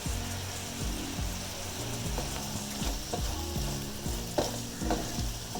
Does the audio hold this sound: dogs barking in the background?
no